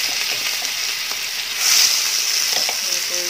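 Spice paste, ground in a mixer, hits a hot pan with kala jeera for an egg and potato curry, giving a loud, dense sizzle that swells briefly midway.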